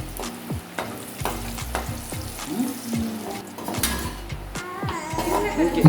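Beaten eggs seasoned with salt and pepper fry in a pan, crackling and sizzling close by, broken up by sharp scraping and clattering stirs at irregular intervals.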